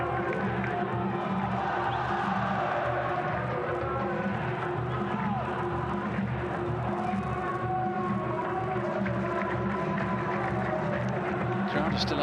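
A football stadium crowd at an Al Nassr away match against Al Hazm keeps up a continuous roar and chanting from a distance, with a commentator talking over it.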